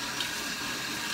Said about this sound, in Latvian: tagad es vienkārši ar ūdens strūklu izcitīšu ārā visu, kas tur ir un kas tur nav